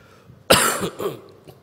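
A single close, harsh cough burst followed by a softer second cough, heard on its own without talking.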